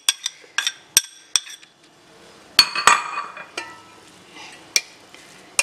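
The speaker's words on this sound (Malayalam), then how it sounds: "എണ്ണ നന്നായിട്ട് ഇളക്കി കൊടുക്കാം" A utensil clinks and scrapes against a pan while stirring an onion and tomato mixture in oil, with sharp metallic taps spaced irregularly over a faint background sizzle.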